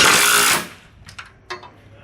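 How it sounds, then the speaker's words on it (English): A power tool tightens a lower bolt on the hinge plate of a bus's extended stop arm: a loud, close whirring burst lasting about half a second, then a few faint clicks and knocks. "Now I'm going to tighten up this lower bolt"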